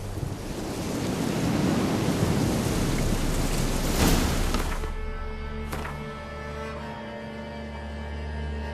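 Thunderstorm in The Witcher 3: Wild Hunt, loud rumbling thunder with steady heavy rain building to a crack near the middle, then easing into quieter rain and distant rolling thunder.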